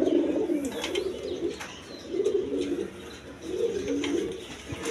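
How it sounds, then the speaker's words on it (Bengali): A pair of big Indian Bombay pigeons coo in repeated low, rolling phrases, fairly close and steady, with faint chirps from other birds in the background. "এখানে এক পেয়ার বোম্বাই কবুতর আছে। দেখেন একদম রাউন্ড জুটি, একদম বিগ সাইজের ইন্ডিয়ান বোম্বাই কবুতর।"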